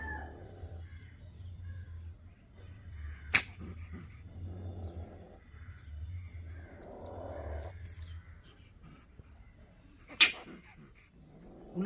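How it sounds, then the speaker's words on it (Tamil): A mongoose caught inside a rat trap gives short, faint, raspy cries in several separate bursts over a low background hum, with two sharp clicks from the trap in between. "இந்தோ கீரிப்பூச்சி தெரியுதா? எம்மோ பயங்கர சவுண்டை பாருங்க."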